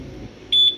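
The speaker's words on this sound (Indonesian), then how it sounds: "bunyi bip berarti alarm suaranya nyala ya" A keyless remote alarm on a Honda PCX-style scooter gives one short, clear electronic beep near the end, loud and close, with a quiet background and no talk.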